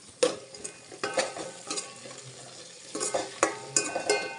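Tomatoes and green chillies frying in a pan, with a soft sizzle under repeated stirring scrapes and spoon taps on the pan, close by, in uneven bursts.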